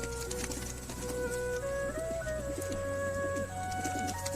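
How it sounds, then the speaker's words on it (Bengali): Pet pigeons coo repeatedly nearby, their soft rolling calls overlapping in a steady rhythm while they are let out of their box. "আজকে নিয়ে এসেছি পায়রাগুলো। এখন তোমাদের শখ করাচ্ছি, এখন পায়রাগুলো বের করছি।"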